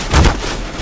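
A single gunshot in the video game Counter-Strike: one short, heavy low thump with a quick decay, followed by faint background noise.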